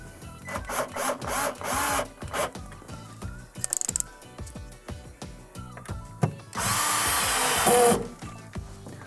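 A power drill tightens the screws of a built-in microwave's mounting bracket, heard as short clicking handling noises and then one loud sustained whir of a couple of seconds near the end.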